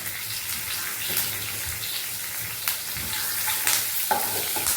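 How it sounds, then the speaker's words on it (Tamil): Onions fry and sizzle in a pan on the stove while being stirred, with soft crackling and occasional utensil scrapes and clinks throughout, fairly quiet and close, no talk. "வெங்காயத்தை போட்டு ஒரு கிண்டி அப்படியே ஸ்டோவில் இருக்கும்"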